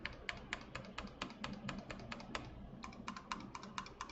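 Mechanical keyboard with Zealios 65g switches on a brass plate, a run of crisp individual key presses in uneven rhythm with a short pause midway, close and quiet.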